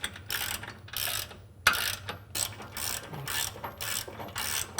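Ratchet wrench tightening a nylock nut with a flat washer on an Ironman 4x4 rear tow bar of a Jeep Wrangler JL Unlimited, a close series of quick clicking strokes with short pauses between pulls.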